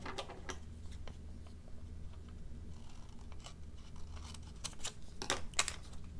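Scissors or a blade cutting a piece off a homemade wooden ghost book page, a run of quiet close snips and sharp clicks spaced irregularly, growing denser toward the end, over faint background hum.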